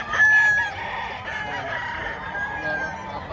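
A year-old straight-combed gamecock crows once near the start, a strained rising call fading into farm background noise, with faint fowl sounds continuing after.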